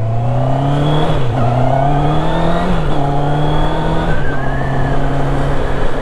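Loud QJ Motor SRK 800RR motorcycle engine revving up and down through several gear changes, a deep throaty exhaust note rising and dropping in pitch close by.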